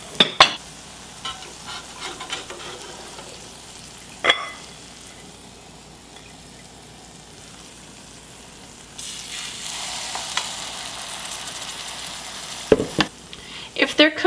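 Food browning in a pan as part of a GAPS diet introduction-phase dish, with a steady sizzle and frying hiss that swells louder partway through, broken by occasional sharp clinks and stirring sounds.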